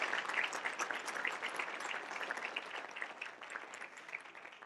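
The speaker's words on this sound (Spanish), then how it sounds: "quiero que se den todos un aplauso porque este es un logro de todos" Staff at an official installation ceremony give themselves a round of applause, a dense crowd clapping that starts strong and slowly tapers over nearly five seconds, heard from a moderate distance.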